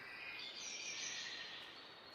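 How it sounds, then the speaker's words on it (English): Birdsong from woodland in the farming game Farming Simulator 22: a steady wash of high chirps and twittering under faint ambient hiss, continuous and soft, with no voices. "a lovely sound coming from the woodland with the birds in there"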